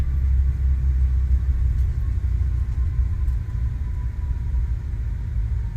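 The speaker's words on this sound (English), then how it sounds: "Reversers are coming out." Aerosoft CRJ airliner in Microsoft Flight Simulator rolls out after landing at LaGuardia with thrust reversers deployed, a steady, heavy low roar and rumble that fades slightly over a few seconds.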